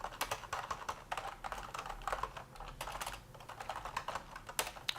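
Close, steady typing on a computer keyboard while a Linux build is worked on, a fast irregular patter of crisp key clicks heard alone.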